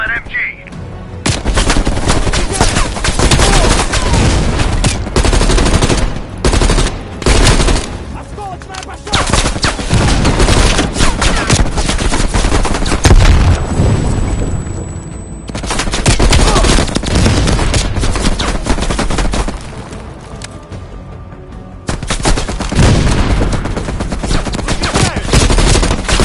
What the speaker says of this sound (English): Mel, we'll never get to the AA gun if we can't handle that MG